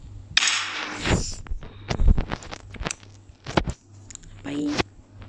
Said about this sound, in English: This one shoots cannons.